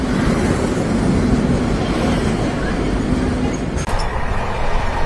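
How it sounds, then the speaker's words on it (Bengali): A train travelling from Ghatshila rumbles steadily, loud and close with a low droning hum from inside the carriage, briefly dipping near the end. "ঘাটশিলা থেকে আমরা ট্রেনে রওনা দিয়ে দিয়েছি।"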